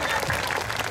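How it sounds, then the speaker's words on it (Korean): Brief burst of crowd applause at an outdoor Namsadang folk performance on Gwanghwamun Square during the Jongno Hanbok Festival; a dense wash of clapping, moderately loud, lasting under a second. "이렇게 어렵게 박수도 받았고"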